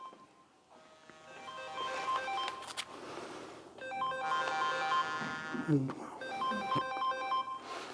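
A telephone rings repeatedly in short electronic melodic bursts during a classroom lecture, moderately close and fairly loud, with background room noise and a brief rustle between rings.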